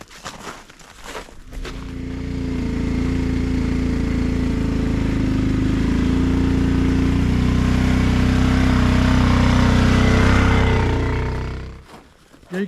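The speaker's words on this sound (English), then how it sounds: "I like mowing real tight to these trees" A lawn mower engine mowing close around pine trees starts up with a few clicks, then settles into a loud, steady drone that holds for about ten seconds before cutting off abruptly.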